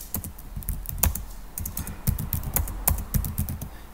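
Quick, close computer keyboard keystrokes for vim editor commands tap out in uneven clusters, crisp and moderately loud with no voice over them.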